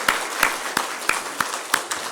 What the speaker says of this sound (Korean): 크게 박수 하겠습니다.